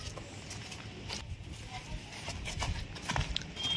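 A panchkaliyan mare is walked on a hard surface, her hooves clip-clopping in an irregular, steady walking rhythm at moderate distance over a noisy outdoor background.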